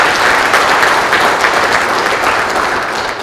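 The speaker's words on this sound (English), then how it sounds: "So let's give him a round of applause." Loud, sustained applause from a chamber of commerce audience at an elected officials forum, welcoming the local police chief; a thick wash of clapping that tapers slightly near the end.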